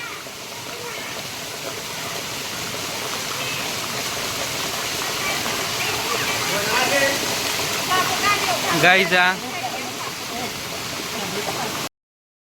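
A steady, dense roar of heavy rain pours continuously, with a brief voice breaking through near the end before it cuts off.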